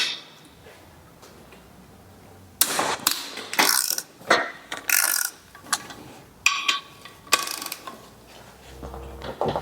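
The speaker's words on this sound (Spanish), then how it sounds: "Así que vamos a empezar a sacar la culata." Cylinder head bolts being loosened on a broken PureTech engine with a ratchet, giving bursts of sharp ratcheting clicks and metallic clanks separated by short pauses, close and loud after a quiet start.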